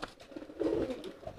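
Pigeon cooing loudly in a courtship display, a throaty warbling coo that swells in the middle and trails off, close and fairly quiet over a soft background.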